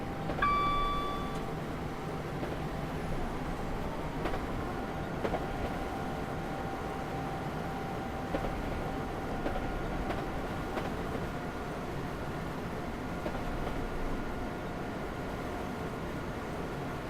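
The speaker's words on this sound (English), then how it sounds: "Train there and another one at the station." A train runs in Train Simulator 2019 on the London Liverpool Street to Braintree, Essex route, giving a steady, quiet rolling rumble with a faint electrical hum and a brief chime at the start, with no talking.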